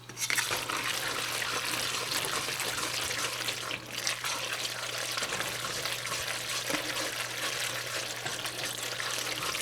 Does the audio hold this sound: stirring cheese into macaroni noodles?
yes